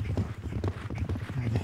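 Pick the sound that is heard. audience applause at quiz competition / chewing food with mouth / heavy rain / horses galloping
horses galloping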